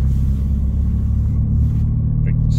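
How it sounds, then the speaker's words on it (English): A passing car rumbles by as a steady low drone, heard from inside a moving vehicle on a Scottish road, with no speech over it. "that's a nice GT Mustang there."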